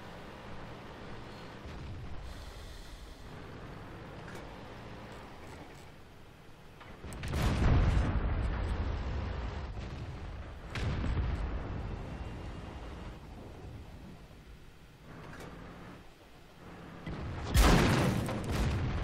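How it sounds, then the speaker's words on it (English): Enemy tanks fire shells at the player's heavy tank in World of Tanks, with loud, booming impacts and blasts arriving in several heavy surges over a low rumbling engine drone. "They're, of course, all shooting at me."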